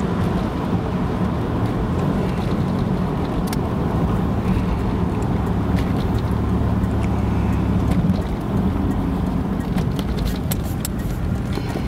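A 1991 Buick Reatta drives along a bumpy road near a lake, heard from inside as a loud, steady low engine and road rumble with tire and wind noise.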